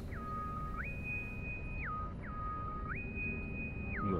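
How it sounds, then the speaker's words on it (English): Two-tone electronic alarm in the space game Star Citizen, repeatedly stepping up and down between a low and a high pitch in a steady cycle, clear and fairly loud over a quiet background hum. "Double alarm there. Oh, it gave me like 7 alarms."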